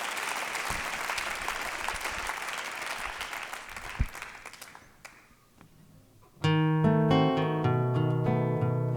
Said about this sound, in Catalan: Un aplaudiment per a ella.